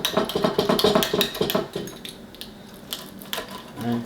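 A knife cuts through a pizza-like dish of canned chunky soup, giving a quick run of close clattering taps and scrapes against the plate, then quieter scattered knocks and a final soft thud.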